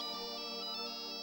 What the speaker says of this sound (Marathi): रंजनाजींचा फोन आहे.